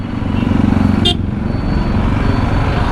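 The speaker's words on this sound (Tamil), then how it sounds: "விழுப்புரத்துலேயும் டிராஃபிக்கு ரொம்ப ஹெவியாகுதுங்க" Heavy evening road traffic in Villupuram, heard from a Yamaha R15 motorcycle, makes a constant dense rumble of engines, with one short horn toot cutting through partway.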